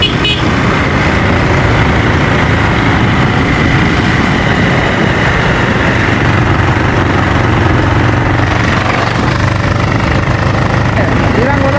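A motorbike ridden through the Rolpa hills toward Libang in Nepal drones steadily and loudly without a break, its engine blended with heavy rushing wind noise throughout.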